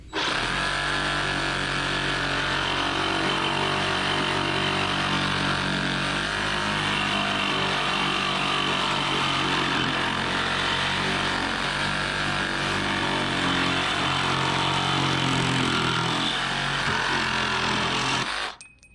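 A Harbor Freight Hercules brushed reciprocating saw runs loud and steady, buzzing for about eighteen seconds without load before cutting off abruptly, with no voices.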